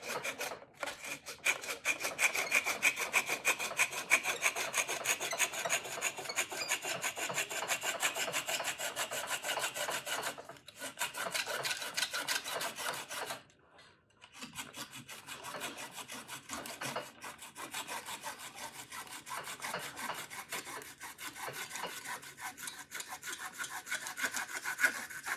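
Wood of a steel-string guitar body being trimmed flush against a mold: a long run of rapid, rasping scraping strokes, close and steady, with two brief pauses.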